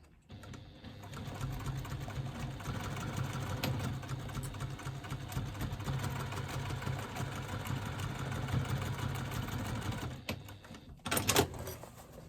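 A sewing machine stitches through fabric and interfacing in a steady, close mechanical whir that runs for about ten seconds, then stops, followed by a brief louder rustle near the end.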